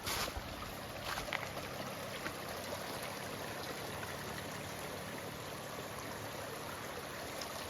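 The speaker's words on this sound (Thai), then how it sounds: "ฝั่งนู้นเนี่ยมีน้ำไหลลงมาด้วยนะ" Water flowing down a stream in a forest setting, a steady broadband rush and trickle heard continuously at moderate distance, with no talking.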